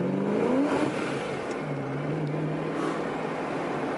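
A Procharger-supercharged 2004 Ford Mustang Mach 1 accelerating, its engine note rising and then holding steady as a close, continuous drone inside the car, with a faint whine over the top.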